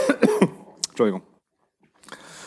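A person clears their throat and coughs a few times close to the microphone, between short bits of speech, followed by a pause and soft breath.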